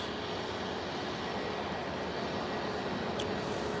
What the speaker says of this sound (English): Aer Lingus A320.